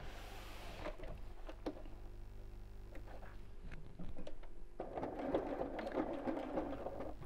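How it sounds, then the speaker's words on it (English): A sewing machine stitches slowly around a box outline on a thick, layered fabric purse, giving a quiet, steady motor hum that swells into a busier, denser whir of stitching in the second half. "And then I'm going to sew around this box."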